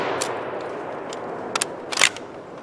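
An HK91 rifle fires off a final magazine: several sharp, distant-sounding cracks spaced irregularly over a steady background hiss, with two shots close together near the end.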